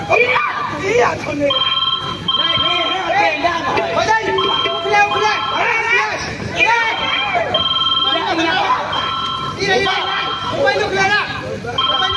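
A mobile phone rings with a repeating electronic tone through a loud, crowded comic stage show, under constant chatter and shouting voices.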